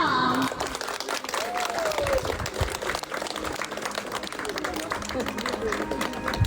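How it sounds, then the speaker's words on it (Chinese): Wedding audience applauding as the groom is called up to the stage, a steady wash of clapping and crowd noise over a music bed, with a host's voice over the top. "让我们响起最热烈的掌声，有请我们的新郎欧阳闪亮登场。"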